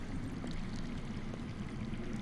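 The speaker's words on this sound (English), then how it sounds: "I hear water. From underground." Steady underground water flowing in a cave setting from a Game of Thrones video game, a continuous low rushing wash, faint and constant without speech.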